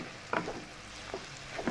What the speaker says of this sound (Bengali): এই দেখো আমি কিন্তু এখন এই সবজিগুলোর সাথে ডিমটাকে খুব সুন্দরভাবে মিশিয়ে দেব